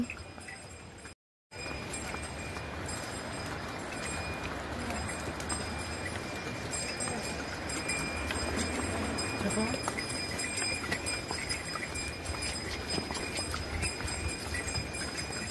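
Horses step downhill on a mountain trail beside a river, giving a faint, irregular patter of hoof clops and jingling tack beneath steady outdoor noise, with some voices nearby.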